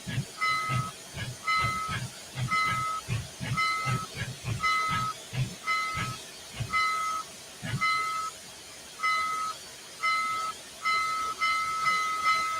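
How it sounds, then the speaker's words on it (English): Steam locomotive in Train Simulator 2021 chuffing steadily at a regular rhythm, each exhaust beat paired with a hissing burst, repeating evenly throughout at moderate volume with no talk. "It does that for certain steam engines with the chuffing as well."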